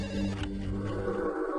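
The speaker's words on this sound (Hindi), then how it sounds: "देर रात आए एक फोन की घंटी ने भोपाल के मुख्य अस्पताल के सीनियर कंसल्टेंट डॉक्टर" A telephone bell rings late at night in a senior consultant doctor's home in Bhopal, a loud, continuous electronic trill with steady tones that cuts off near the end, no voices over it.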